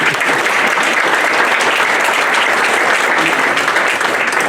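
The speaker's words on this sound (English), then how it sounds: "with another round of applause for everybody" A crowd at a volunteer awards ceremony gives a round of applause, with dense, steady clapping that stays loud and continuous throughout, with no voices standing out.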